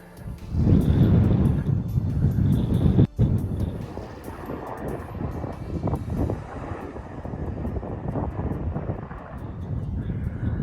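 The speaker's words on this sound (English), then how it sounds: "Bit breezy up here though." Strong wind buffeting a hilltop near the summit of Crug Hywel in the Black Mountains, a loud rushing roar with heavy gusts battering the microphone, easing slightly after a brief lull and then blowing steadily on.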